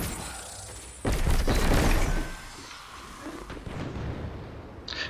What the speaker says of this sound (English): So let's chuck a hand grenade.